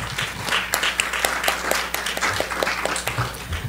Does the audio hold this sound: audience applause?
yes